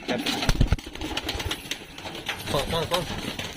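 Pigeons of the Karna pura breed cooing in soft throaty bursts close by, with someone talking over them and a faint engine hum in the background.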